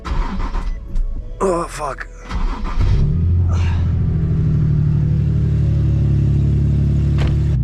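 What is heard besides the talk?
car engine starting and running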